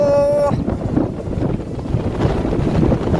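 Strong wind gusts buffet the microphone outdoors in the Gir forest countryside, a steady loud roar with low rumbling that persists throughout after a brief tonal sound at the start.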